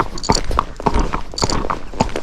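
A Tennessee Walking Horse named Zorro in a flat walk, its hooves beating a steady, even four-beat rhythm, loud and close, with creaking tack and some background noise.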